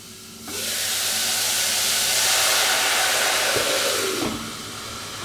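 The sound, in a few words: white wine added to a hot pan of onions and lardons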